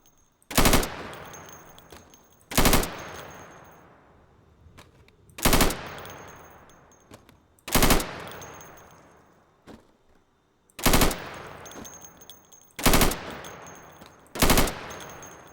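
Sidearm pistol fire at pop-up targets in the video game Insurgency: seven loud, sharp shots spaced a second or two apart, each with a trailing echo, no talk.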